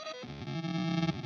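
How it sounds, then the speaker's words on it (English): Ambient guitar loop run through an Autobit effect with reduced sample rate, its gritty, distorted tone dropping an octave partway through as the step sequencer shifts; quiet, sustained and buzzy, with no talking. "what you heard was a little octave drop on the Autobit."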